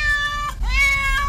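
Frightened cat trapped indoors meowing for help, two drawn-out plaintive meows close up, the second rising sharply, heard alone without talk.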